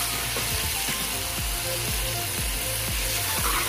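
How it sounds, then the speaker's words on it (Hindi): Green chilli paste, cumin and salt being stirred in a hot pan, with a spoon scraping in a regular rhythm of repeated strokes over a soft continuous sizzle, close and moderately quiet. "अच्छे से हमने मिक्स कर लेना है इसे"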